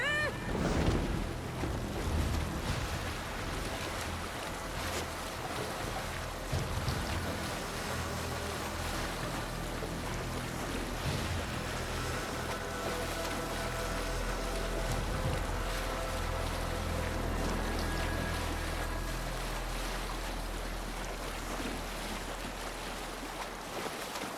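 Sailing ship gliding over open sea in Assassin's Creed Valhalla, with a steady wash of waves and wind against the hull, continuous and fairly loud, with a low rumble throughout and a brief voice near the start.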